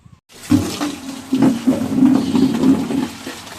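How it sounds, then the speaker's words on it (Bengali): Water splashes and gushes loudly and close as freshly caught fish are washed in a village setting in Bangladesh, a steady rushing flow with churning surges after a brief quiet start. "যে মাছ এখন ধরা হয়ে গেছে মাছগুলো সব ধোয়া হলো"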